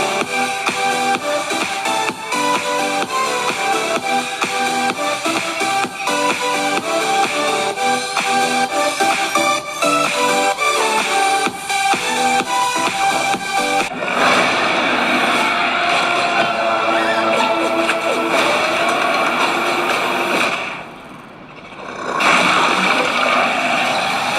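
Loud, full music with strong bass playing continuously through the small built-in speakers of a 2021 Huawei MateBook 14s laptop, then briefly dipping near the end before returning.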